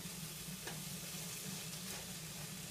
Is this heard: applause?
no